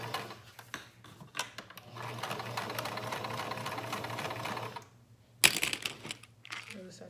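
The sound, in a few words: sewing machine back stitching then stitching forward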